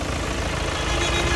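A 2.2 CRD diesel engine idling with the hood open, a steady, smooth broadband hum with a low rumble, close and continuous, no voices.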